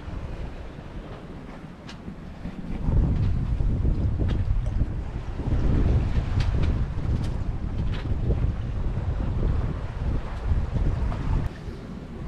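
A sailboat under way on the water in the wind, with steady rushing wind buffeting the microphone and a constant wash of water along the hull, loud and unbroken throughout, with no voices.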